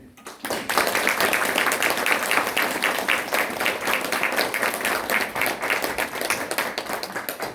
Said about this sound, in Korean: 여러분 목사님 나오실 때 뜨겁게 격려의 박수 해주시기 바랍니다.